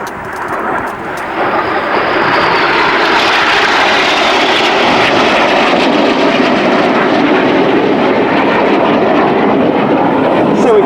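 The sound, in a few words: Red Arrows jets flying the Jippo pass manoeuvre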